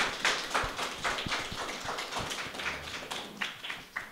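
Audience applause for a guest speaker at a Korean mentoring talk event, a dense patter of many hands clapping steadily throughout, fairly close and moderately loud.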